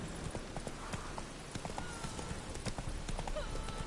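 Roach the horse gallops in The Witcher 3 with rapid, continuous hoofbeats and a faint snort, set within busy game ambience and a soft, muffled voice.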